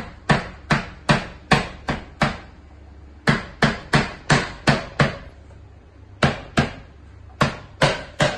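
Lemongrass stalks being chopped with a knife on a cutting board for pork lechon belly, sharp regular thwacks in three quick runs of about seven, close and loud with brief pauses between runs.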